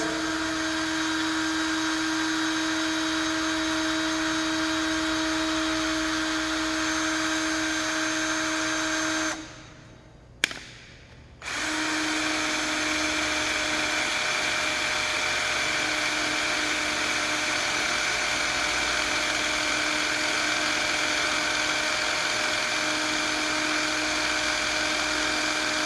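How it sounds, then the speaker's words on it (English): A power drill with a left-hand bit whines steadily at high speed for a long stretch drilling into a fastener, stops briefly, then starts again and keeps running. "it actually drills into the fastener"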